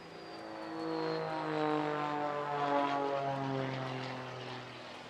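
Modified Pitts S2S-style propeller aircraft passes overhead at an air festival, a steady droning engine with shifting pitch swelling and fading over several seconds from a moderate distance.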